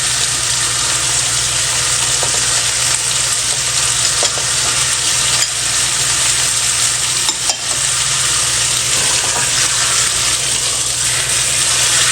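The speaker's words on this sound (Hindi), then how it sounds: "इसको अच्छी तरह भून लेते हैं गोश्त को। साथ ही हम इसमें अदरक लहसुन का पेस्ट डाल देंगे।" Chicken meat frying in a pan with ginger garlic paste for a chicken bhindi dish, a loud steady sizzle with stirring scrapes running throughout, no talking.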